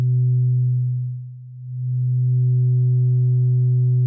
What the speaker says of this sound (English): Here in yellow is a sine wave from a VCO.